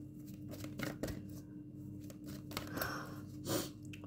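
Tarot cards being shuffled by hand during a reading. The riffling is quiet and close, with soft papery rustles and small flicks that rise in a few brief bursts.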